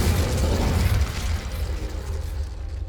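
A Confringo fire spell blast in Hogwarts Legacy, a loud, rumbling burst with a heavy low boom and a crackling, noisy tail that fades over a few seconds.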